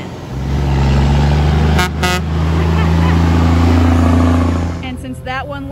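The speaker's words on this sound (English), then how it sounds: "this silage truck is full now, and they're gonna take that silage over to the pit and start packing it" A silage truck loaded full of chopped corn pulls away with a loud, deep engine drone and rising low harmonics, a couple of short horn-like tones cutting in early and a voice speaking near the end.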